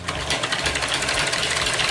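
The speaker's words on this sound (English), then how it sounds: "mixer on and mix it." An electric hand mixer with worn beaters whirs loudly and steadily while beating egg whites for cloud eggs, a close, continuous motor buzz with a rapid pulsing rattle.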